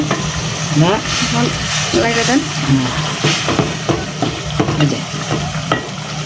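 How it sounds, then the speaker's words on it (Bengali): Salted hilsa fish frying in a spice paste with salt, giving a steady close sizzle with repeated stirring scrapes and clatter throughout. "আম্মু লবণ দিয়ে ইলিশ মাছগুলো এর ভিতরে দিয়ে দেবে"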